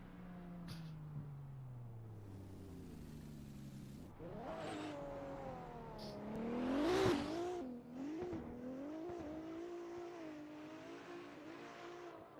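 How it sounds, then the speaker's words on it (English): A loud drift car at a championship drift event screams through a long rev, its engine pitch sliding down, then surging and climbing again as the car accelerates, with a squealing peak midway and sustained high revving afterward. "This car is loud as a white girl in Starbucks that got our order wrong."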